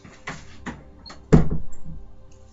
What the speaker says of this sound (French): Excuse-moi, je vais fermer la porte.